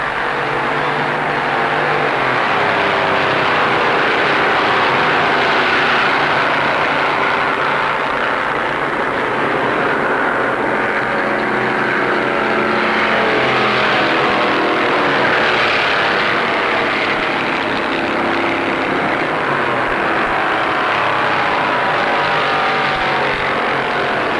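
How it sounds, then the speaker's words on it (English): Plymouth stock cars roaring around Daytona International Speedway, a dense, continuous engine drone swelling and shifting in pitch as the pack passes, loud and steady throughout with no talk. "And here come the cars."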